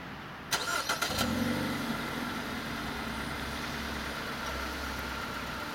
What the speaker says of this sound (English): you just press that start button there 2 times and the car will start